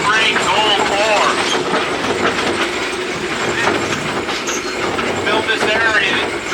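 A Cripple Creek Railroad train runs steadily along its tracks over low-grade gold ore fill in a valley, giving a continuous loud rumble with rattling wheel clatter and occasional faint squeals throughout.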